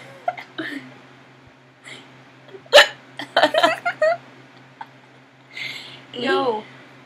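Hiccups from a person, several sharp isolated catches spread unevenly over a few seconds, close and fairly loud, with breathy sounds and brief voices around them.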